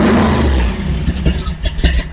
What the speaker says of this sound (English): Kind of hold it half throttle and crank it.